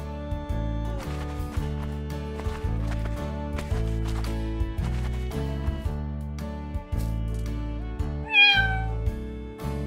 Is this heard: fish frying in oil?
no